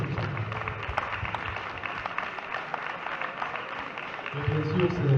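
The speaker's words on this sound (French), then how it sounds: "Et on peut les applaudir." Audience applause at a youth tournament trophy ceremony in Jurançon, steady dense clapping throughout that swells toward the end, with some voices mixed in.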